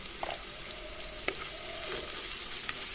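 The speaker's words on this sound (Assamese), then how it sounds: "ইয়াতে ভাজি দিলোঁ একেলগে" Onions fry in a pan with salt and turmeric, making a steady close sizzle broken by occasional light scraping and clicking of stirring.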